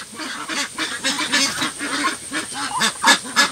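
Ducks honk and quack repeatedly in rapid, overlapping calls while one is caught for weighing; close and moderately loud with a busy, uneven rhythm.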